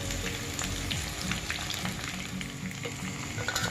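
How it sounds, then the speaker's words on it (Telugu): Chicken pakoda pieces deep-frying in hot oil, a steady dense crackling sizzle that stays even throughout, with no voices. "బాగా గోల్డ్ కలర్లోకి వచ్చిందాకా వేగనివ్వాలి"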